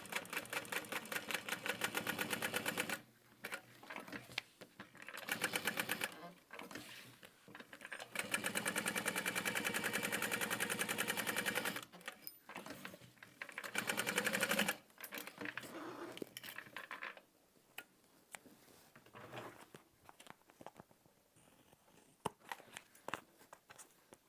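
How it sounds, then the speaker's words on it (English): A sewing machine top stitches a handbag, running in steady, rapid bursts of stitching broken by short pauses, close and clear with no talk. "now I'm gonna top stitch that into place"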